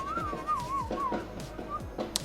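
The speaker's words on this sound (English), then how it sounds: "I can whistle" A wavering whistled tune, quiet and close, with short warbling notes over faint background noise.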